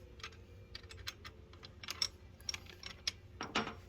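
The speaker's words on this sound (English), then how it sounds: "just tighten this bolt" Soft ratcheting clicks come in short uneven runs as a crossbar bolt is tightened, close but quiet, with no voices.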